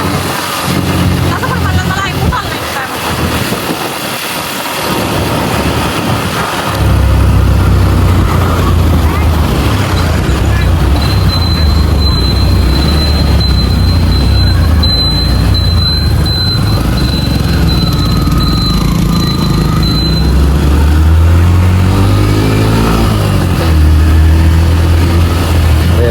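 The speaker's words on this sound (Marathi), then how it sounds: "इथं का ट्रॅफिक लागला याला" Road traffic in a jam with people driving on the wrong side, heard as a loud, continuous drone of car engines with rising revs and a thin squeal, while people talk over it.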